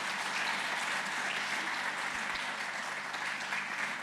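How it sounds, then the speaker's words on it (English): Steady, dense applause from an audience at a sustainable enterprise event, a sustained wash of many hands clapping at even loudness throughout, with no speech on top. "a big round of applause for all those lovely folks"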